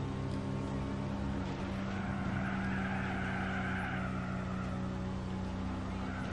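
A BMW 1 Series race car is forced off the road in Gran Turismo 4, with a steady engine drone and tire skidding holding at an even level throughout. No voices.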